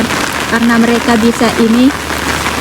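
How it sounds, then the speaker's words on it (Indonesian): Heavy rain pours steadily in the Maldives, a constant hiss of falling water running under a person talking throughout. "Hujannya tambah besar."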